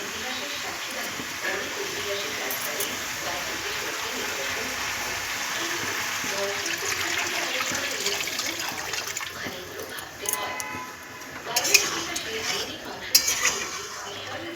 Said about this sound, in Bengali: কষাটা আমার প্রায় হয়ে গেছে এবার আমি জলটা দিয়ে দেবো